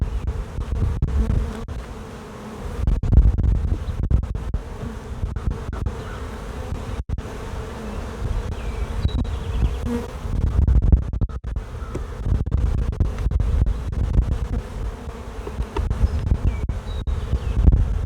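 Honey bees buzz steadily around a busy spring hive, a dense close drone of many insects that keeps going throughout, with occasional scratches from the hive frames.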